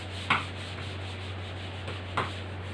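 An eraser rubs out writing on paper, heard as two short scrubbing strokes over a steady electrical hum, close and fairly faint, with no talk.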